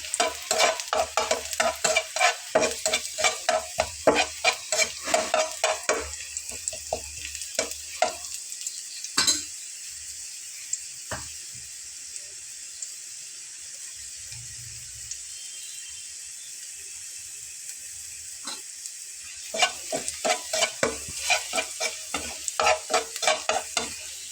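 Chopped garlic frying in a pan while being stirred: close, rhythmic scraping strokes over a soft sizzle, falling quiet in the middle before the stirring resumes near the end.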